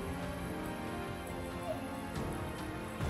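Sudden rain at Chikhale waterfall in the Western Ghats, a continuous soft patter of drops on leaves and surfaces with occasional louder splashes, steady and fairly close, with no talking.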